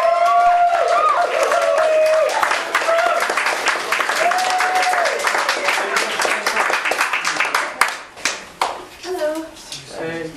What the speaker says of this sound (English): Please give a huge round of applause for Sophie